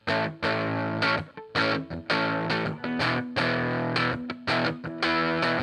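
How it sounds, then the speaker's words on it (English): Thick, distorted electric guitar chugging in a steady rhythmic pattern, chords cutting off sharply between strums, loud and close with no voices. "dialing in a guitar sound that was thick enough to really create a pulse when played rhythmically"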